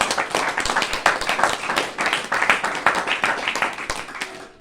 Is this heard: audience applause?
yes